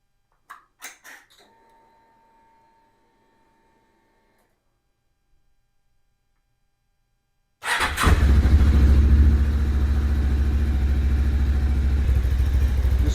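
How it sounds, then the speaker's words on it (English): A 2025 Lifan KPT 400cc motorcycle engine starts abruptly after a few clicks and a stretch of near silence, then settles into a loud, steady, close idle that runs on to the end. "We're going to start it up and let it idle"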